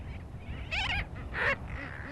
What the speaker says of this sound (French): Il n'y a que des oiseaux.